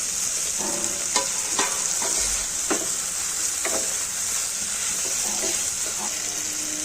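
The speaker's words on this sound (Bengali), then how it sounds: "এবারে পটলগুলো দিয়ে একটু কষে নেব।" Pointed gourd pieces frying in hot oil in a home kitchen, a steady hiss of sizzling with several sharp spatula scrapes and clicks against the pan, close and continuous, no speech.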